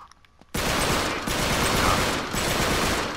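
A burst of AK rifle fire in the Uncharted 3 video game, a rapid, dense rattle of shots that begins abruptly after a brief quiet moment and continues loudly to the end.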